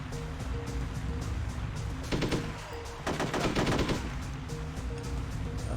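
Gunfire in the video game Hitman: Codename 47: two close bursts of rapid automatic shots crackle over a steady low game ambience, with brief pauses between them and no talking.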